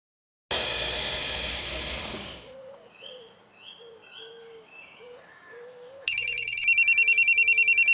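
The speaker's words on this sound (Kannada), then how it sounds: "ಸಾಹೇಬ್ರು ಫೋನ್ ಮಾಡ್ತಾರೆ" A telephone rings indoors in a domestic TV-serial scene. A loud burst of noise opens, then soft chirping tones follow, and finally a bright repeating electronic ring pulses steadily and loudly to the end, with no one speaking.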